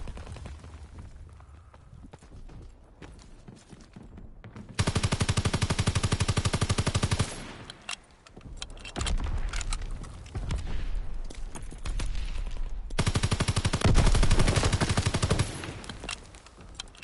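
Rapid automatic gunfire in the World War II shooter Call of Duty WW2: long, loud bursts of fast repeated shots alternating with quieter gaps of scattered distant firing, the final stretch the heaviest.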